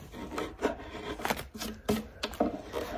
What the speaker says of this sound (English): So I'm gonna grab a really sharp chisel and we'll chisel that nice and smooth.